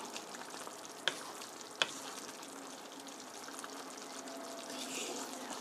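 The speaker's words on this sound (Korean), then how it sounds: "고루 저어서 끓여주시고요" Curry simmers in a pot while a spoon stirs it, giving a soft bubbling and scraping texture with two sharp clinks against the pot early on, close by and without speech.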